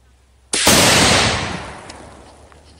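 A Savage Axis II heavy-barrel rifle in 6.5 Creedmoor fires one loud, sharp shot. Its report decays gradually over the next couple of seconds.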